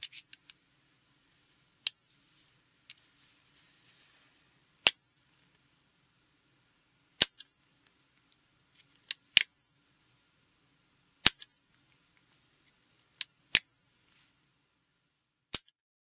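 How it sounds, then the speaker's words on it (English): An Uberti Colt Bisley single-action revolver is dry-fired on snap caps. Crisp, close metallic clicks come one at a time at irregular intervals, some in quick pairs as the hammer is cocked and dropped, with near silence in between. "whenever I am dry firing one of these Uberti single action cartridge revolvers, I use snap caps"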